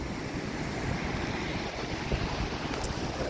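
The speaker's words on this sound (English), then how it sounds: "I'll flip you guys around so you can see me getting blasted by the wind." Strong wind at the beach roars across the microphone in a loud, continuous rumbling blast with no let-up and no talking.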